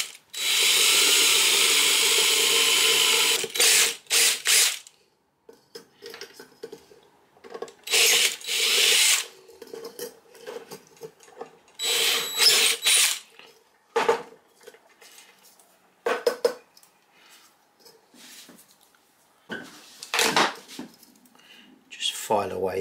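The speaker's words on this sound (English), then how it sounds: "I'm going to go through with a small drill to begin with and then another one slightly larger after that." A small drill bores through a French slate clock dial in loud, sustained bursts, the first about four seconds long, then several shorter runs separated by quiet gaps with light clinks of metal.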